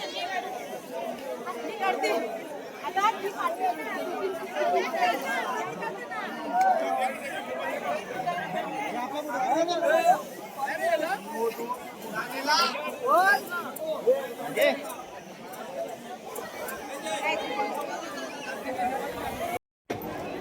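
A dense crowd chattering outside a busy temple, a continuous close babble of many overlapping voices that holds steady throughout and cuts out briefly near the end.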